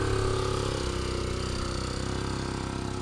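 A small motorcycle engine labouring up a steep slope while loaded with three gas cylinders, a steady, strained droning chug with a regular pulsing beat, close and continuous, no talk.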